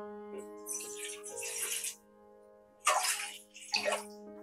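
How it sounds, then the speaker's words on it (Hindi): Water is poured from a glass into a cooking pot for pasta in two splashing pours, the second shorter, over a low steady electrical hum, with no talking. "अब पास्ता बनाने के लिए यहाँ पे मैंने एक पतीली ले ली है। सबसे पहले इसमें 2 गिलास जितना पानी डाल"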